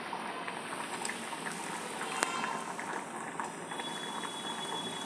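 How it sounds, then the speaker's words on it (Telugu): Tomato coriander dal bubbling in a pot, a soft, steady simmer with faint bubbling and small ticks, close and fairly quiet throughout. "పప్పు బాగా ఉడుకుతున్నది."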